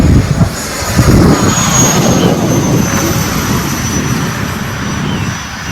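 RC F-16 Falcon jet model with a 64mm electric ducted fan flying overhead, a loud continuous whooshing whine that holds steady and slowly eases off, with no talk.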